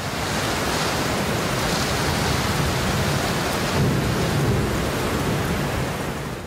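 Heavy monsoon rain pours over Karachi, a dense, loud, continuous roar with low rumbling beneath it and no voices.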